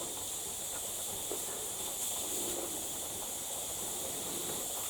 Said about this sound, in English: Should suddenly hear a huge amount of steam coming out.